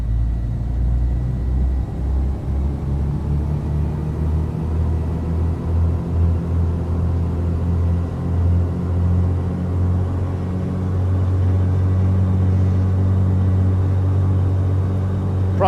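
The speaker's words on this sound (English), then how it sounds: "Let's run this up about 1800 RPM." A Beech Duke twin-engine aircraft in a flight simulator runs up to about 1800 RPM: a steady low droning engine note that builds gradually and holds loud and close, with no talk over it.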